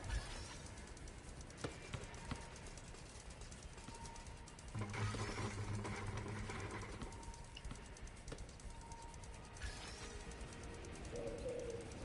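Pigeon cooing in the Spider-Man PS4 video game, soft and low among ambient game sounds, with occasional faint clicks.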